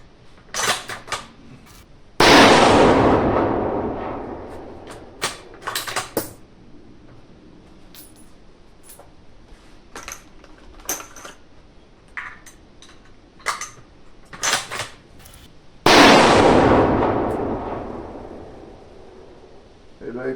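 .308 Winchester rifle shots at a shooting range: two loud, sharp blasts with long reverberant decays, separated by quieter clicks, handling noises and people talking.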